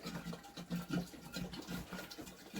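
Water glugs and splashes steadily as it is poured from a petrol can into a Villiers WX11 engine, a close, continuous rushing pour with uneven gurgling pulses throughout.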